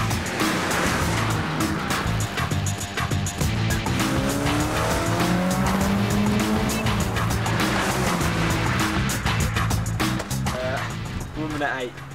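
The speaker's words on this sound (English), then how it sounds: "time for Johnny to test the biofuel car" A biofuel race car laps a wet track, its engine revving up and down with hissing spray and tyre squeal, close and loud throughout, with talk over parts of it.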